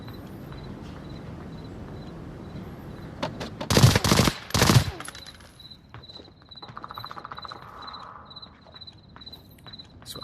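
Suppressed SIG MCX Virtus rifle with laser and holographic scope fires two short, rapid bursts close by in the middle, muffled rather than sharp, over a quiet background hum.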